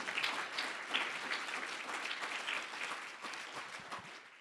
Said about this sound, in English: All right, now you can applaud.